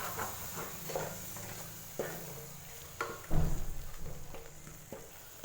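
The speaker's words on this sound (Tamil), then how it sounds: "சேர்த்துட்டு இது நல்லா மிக்ஸ் பண்ணி தக்காளி பழம் வந்து வதங்கணும்." Ground tomato paste cooking with masala in a pan gives a soft continuous sizzle, punctuated by several distinct scrapes and clanks of a spoon stirring against the pan, with one louder knock midway.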